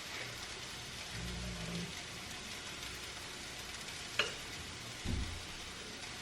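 Onion powder shaken from a shaker onto a turkey meatloaf in a home kitchen: a soft, steady gritty hiss, with one sharp tap midway and a couple of dull low thumps. No one talks.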